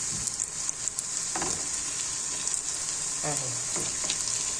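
Ma'qouda fritters frying in hot oil give a steady, loud sizzle that fills the whole clip, with a few brief bubbling bursts and a short spoken word over it.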